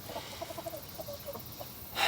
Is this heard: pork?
no